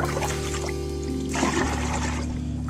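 Water mixed with vitamins is poured into drinkers at a pigeon loft, a continuous close trickling splash over a steady low hum, with a brief surge of pouring partway through.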